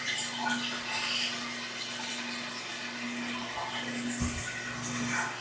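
Water pours steadily into an aquarium tank being refilled, a continuous broadband rush with a low steady hum beneath, close and even throughout with no talking.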